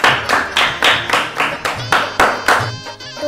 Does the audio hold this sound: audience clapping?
yes